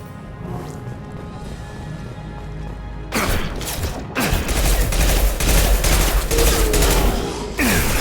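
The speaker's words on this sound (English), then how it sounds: "Taking heavy fire." Heavy video game gunfire, a dense, loud burst of rapid shots and impacts erupting after a quieter opening and continuing to the end, with no talking.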